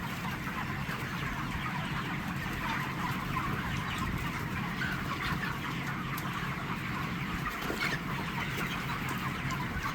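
Broiler chickens on day 32 in a poultry shed, mixed flock, cluck and murmur continuously in a dense, steady chorus, with a constant hum of shed ambience beneath and no talking.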